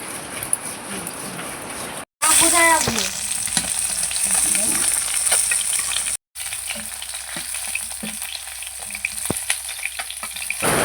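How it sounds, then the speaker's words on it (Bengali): Fish sizzling steadily as it fries in a pan for a Bengali fish curry, with a continuous crackling hiss, occasional spatula clinks and scrapes, and two brief dropouts in the sound. "এইদিকে মাছটা ভাজা হয়ে গেছে তাই মাছটা তুলে নিচ্ছি"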